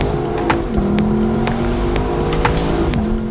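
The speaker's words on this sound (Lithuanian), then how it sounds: "turi malonų murkimą, kada tu su juo akseleruoji" Lexus LC 500 Convertible engine revving up under acceleration, a loud, steady near-field growl with rising and shifting tone, plus scattered sharp clicks and ticks throughout.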